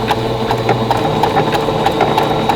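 A sewing machine running a blanket stitch around applique on a Christmas basket quilt block, a fast, even mechanical chatter with rhythmic needle ticks, close and steady throughout.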